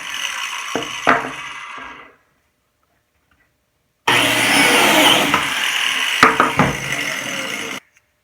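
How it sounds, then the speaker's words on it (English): A biscuit joiner cutting slots into wooden cabinet pieces gives a loud, steady whine with grinding bite, running in two separate bursts with a silent pause between them. "that's what that biscuit joiner machine does, is it makes slots that match up"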